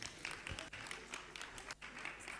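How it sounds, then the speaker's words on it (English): An audience claps for a participant at a health event, with scattered bursts of applause rising and falling under and between speech. "Can we clap for her?"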